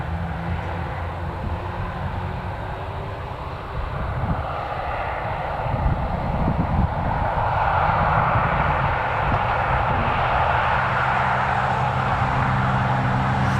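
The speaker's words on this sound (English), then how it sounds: "British Airways is probably going to taxi when it comes into view anyways, because I can hear his engines now." A British Airways airliner's jet engines approaching Newcastle Airport, a steady broad roar that swells slightly as it nears, heard from a distance with no voices.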